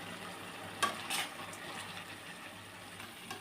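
A spatula scrapes a couple of times through chorchori curry made with small fried fish, chilli powder and water in a pan, followed by a faint, low sizzle that continues quietly.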